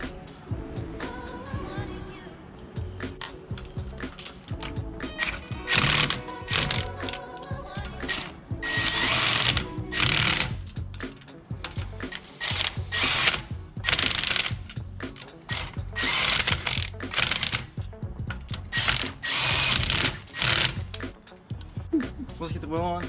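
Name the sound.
torque wrench tightening wheel lug nuts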